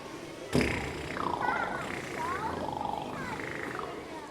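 Didgeridoo played with tongue and lips together at a children's school assembly show: a sharp onset opens into a sustained low drone with shifting, warbling overtones that rise and fall irregularly over several seconds.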